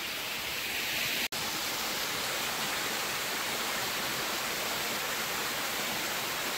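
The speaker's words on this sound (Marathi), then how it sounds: "जे आपण शोधत असतो की वॉटरफॉल, धबधबे। हा आवाज आहे का?" A waterfall in a Konkan village gives a steady, broad rushing roar that fills the whole stretch at an even level, close by, with no voices over it.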